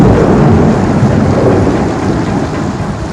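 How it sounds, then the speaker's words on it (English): Heavy rain pours in a loud, dense roar, with deep thunder rumbling underneath throughout. "It was raining heavily,"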